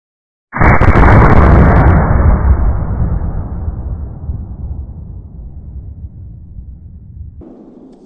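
A single loud, close gunshot from an 1887 Winchester lever-action firing a 900-grain bullet, a sharp blast followed by a long rumbling decay lasting several seconds, with no talk.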